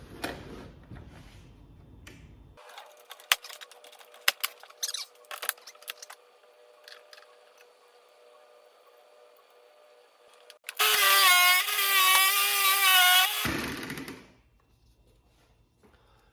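A Cel Power 8 Pro cordless scroll saw cuts with a buzzing, reciprocating whir for about three seconds. Faint workshop handling noises come before it.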